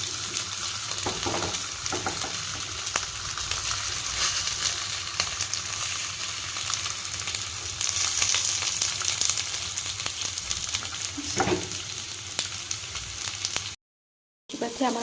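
Fish pieces frying in a little oil on a tawa give a steady, close, loud sizzle with a constant crackle, a few soft clinks, and a brief dropout near the end; nobody speaks.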